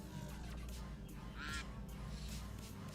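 Goose-like honking and quacking calls, several loud bursts in a row over a steady background hum, without any talk.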